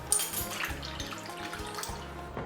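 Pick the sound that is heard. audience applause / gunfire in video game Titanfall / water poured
water poured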